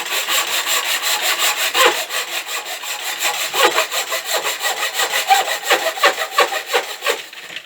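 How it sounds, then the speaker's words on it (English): Hand miter saw cutting a 15 cm wooden pole, a steady run of rhythmic back-and-forth rasping strokes, close and fairly loud, with no talking. "I'll just cut it to size on the hand miter saw"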